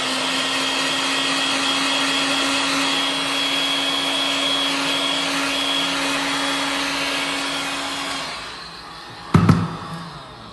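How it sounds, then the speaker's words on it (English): A heat gun blows steadily on filler in a wood-effect laminate worktop repair, a loud continuous whirring roar with a tonal whine that cuts off near the end, followed by a couple of sharp handling knocks. "when you get your heat gun on that"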